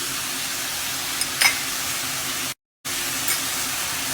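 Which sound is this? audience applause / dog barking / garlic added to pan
garlic added to pan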